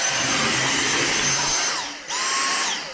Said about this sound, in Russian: Данная щетка тоже работает прекрасно. Во время работы она крутится, собирает все всякие волосы